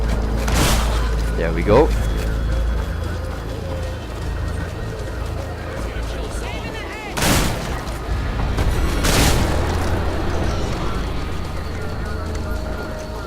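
Gunshots ring out in the video game Hatred, with a few sharp loud bangs spaced several seconds apart over a steady game background rumble, and someone briefly speaks.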